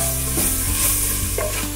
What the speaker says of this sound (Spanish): vamos a freír muy bien hasta que los ajos empiecen a dorar